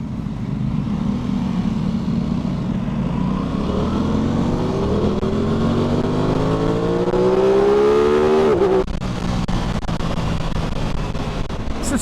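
A 2021 Aprilia Tuono 660 motorcycle rides through traffic lane splitting, its engine loud and close, revving up steadily through a rising pitch before shifting, with wind rush throughout.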